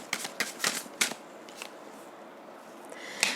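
Tarot cards shuffled by hand for a weekly reading, crisp riffling snaps in quick irregular bursts up close, with a final flutter at the end.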